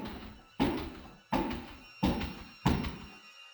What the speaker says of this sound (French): De forts coups semblent provenir de multiples endroits.